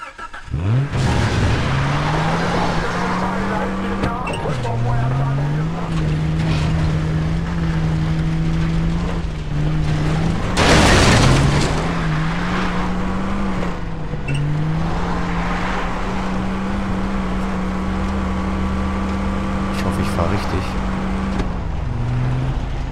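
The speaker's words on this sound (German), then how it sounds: "Hier ist ein Auto, Gott sei Dank, da können wir da hochfahren." A car climbs a winding hill road in Far Cry 3, its engine droning steadily and rising in pitch through repeated gear shifts, loud and close, with occasional bumps and a brief burst of noise midway.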